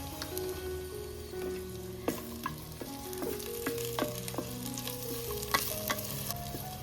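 Dried kokum is added to an onion-tomato masala sizzling in a pan for a Konkani dried-fish curry, with steady frying crackle and stirring scrapes and taps close by.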